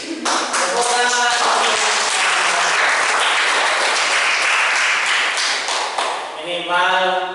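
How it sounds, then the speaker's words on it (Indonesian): Students in a classroom burst into loud, close applause, rhythmic rapid clapping filling the room, with voices and sung or chanted tones at the start and end. "Tepuk tangan."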